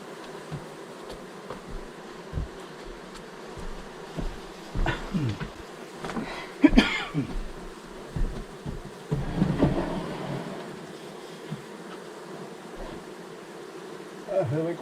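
A honeybee swarm being collected from an attic into a small hive box, a steady close buzzing drone with intermittent louder passes and handling noises.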